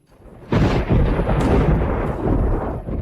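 A thunder-and-lightning sound effect opens with a sharp crack, then a heavy rolling rumble that stays loud and sustained for a few seconds before easing slightly. No voices are heard.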